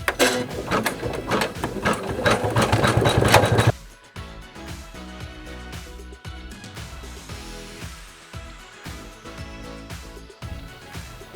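An embroidery machine stitches a pumpkin mouse snap tab design with rapid mechanical needle clatter, loud and busy at first, then a quieter rhythmic ticking as it keeps running without voices.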